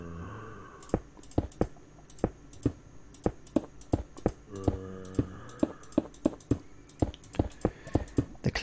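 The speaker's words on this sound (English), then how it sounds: "clicking of the mouse." A computer mouse clicks again and again, sharp and close, in an uneven stream of single and quick double clicks over a soft background hum.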